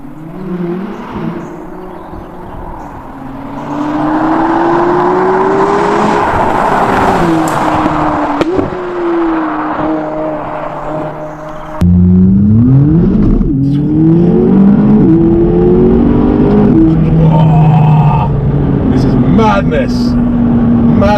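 A McLaren 570GT sports car accelerates hard, its engine rising and falling through gear changes before a louder surge, with people talking over the engine throughout.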